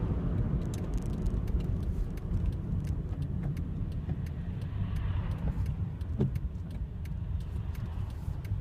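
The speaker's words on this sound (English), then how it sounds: "So quite busy traffic." Steady busy road traffic heard from inside a car on a driving test route in Bletchley, Milton Keynes, a continuous low engine and tyre rumble with vehicles passing, moderately loud and without talk.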